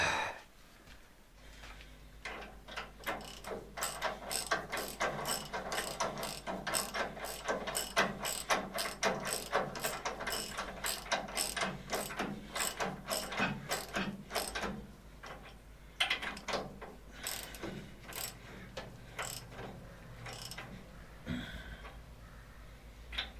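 A ratchet wrench tightens a bolt on a Fordson Major mill loader, its rapid pawl clicks running in long bursts of steady, close, loud ratcheting with brief pauses and no talking.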